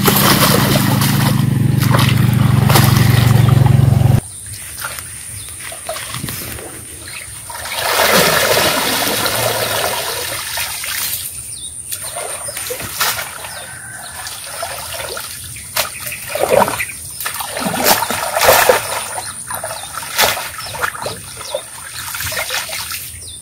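Pond algae from a ditch is washed by hand in water, with irregular splashing, trickling and dribbling close by, a louder steady rush at the start, then intermittent sloshes and drips.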